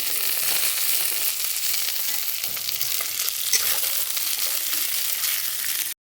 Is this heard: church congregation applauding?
no